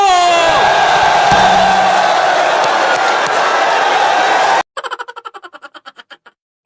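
A large crowd at a FlipTop rap battle roars and shouts together loudly for several seconds, then cuts off into a quick series of rhythmic, pulsing bursts.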